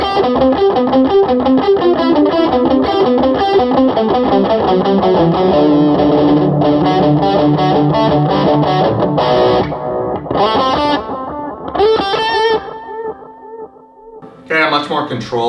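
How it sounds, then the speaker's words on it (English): An electric guitar on the bridge pickup plays distorted, with an MXR Carbon Copy analog delay pedal in the effects loop. Loud chugging riffs leave repeating echoes that trail off in the gaps between phrases near the end. "here's the delay pedal run in through the effects loop and with the distorted sound on the bridge pickup"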